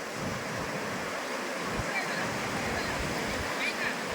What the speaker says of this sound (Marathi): अथांग लाटा आहेत